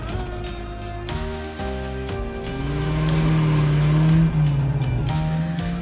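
A light vintage Ventoux coupé, with a wooden body skinned in aluminium sheet, driving in the Tour Auto 2023 rally: a loud, close engine drone that climbs in pitch as it accelerates, steady and continuous.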